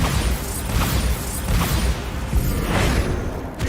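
A Bombarda blasting spell going off in Hogwarts Legacy: a loud, continuous wash of booming explosions and whooshing bursts of magic that fades off at the very end.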